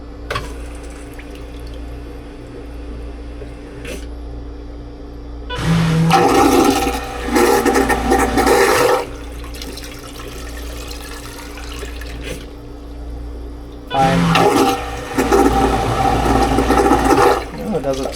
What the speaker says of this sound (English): Okay. Normal flush.